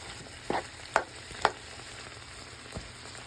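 Chicken pieces with onions, peppers and seasonings cook on a hot griddle for cheesesteak, giving a soft steady sizzle broken by a few sharp scrapes or taps of a spatula.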